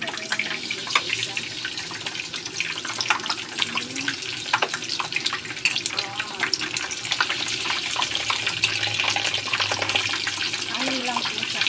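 Prawns sizzle steadily in hot cooking oil, a continuous loud hiss peppered with small crackles and pops throughout, with no voices.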